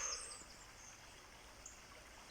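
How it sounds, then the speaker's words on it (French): A quiet, steady wash of flowing water, like a small stream nearby, with a faint bird note or two above it. "j'entends le cours d'eau"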